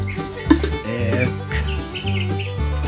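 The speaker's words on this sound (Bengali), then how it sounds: "এখন একটা একটা করে 4টে মুরগি উঠাবো" Seven-day-old broiler chicks chirp and cluck close by as they are lifted one at a time onto a weighing scale, with a busy run of short calls.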